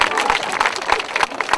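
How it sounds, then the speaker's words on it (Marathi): Applause and crowd noise for the winner of a village quiz during a Nagpanchami festival gathering in Satara district, with dense, steady clapping throughout. "त्यांच्यासाठी जोरदार टाळ्या वाजत राहिल्या."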